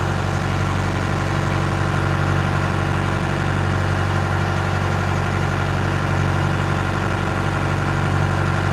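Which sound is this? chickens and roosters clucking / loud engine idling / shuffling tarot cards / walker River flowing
loud engine idling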